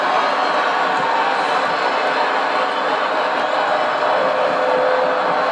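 Steady crowd noise filling a college basketball arena during a free throw, Iowa State hosting Kansas, a dense continuous roar and murmur with no distinct breaks, loud and enveloping.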